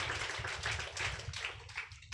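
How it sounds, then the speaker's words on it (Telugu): An audience claps their hands at a Telugu religious gathering, a dense continuous patter of many clapping hands at steady loudness that thins out toward the end. "చప్పట్లు కొట్టండి అక్క"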